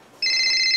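A telephone starts ringing abruptly after a brief quiet moment, a bright, steady electronic ring that stays loud and close.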